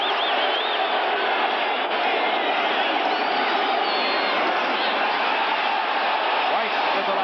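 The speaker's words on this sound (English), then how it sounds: "Crowd getting into it once again." A football stadium crowd roars steadily throughout a 1985 Cowboys at Giants game, a dense continuous wash of cheering with a commentator talking over it.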